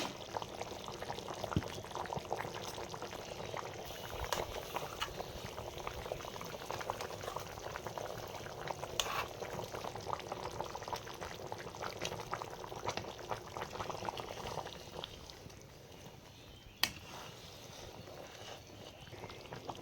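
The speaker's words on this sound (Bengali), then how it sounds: "একবার দেখে নেব, ঝোলটা ফুটে গেছে।" Duck meat curry broth with new potatoes boils in a pot, a dense, continuous bubbling and rolling simmer heard close up with no talking, easing slightly near the end.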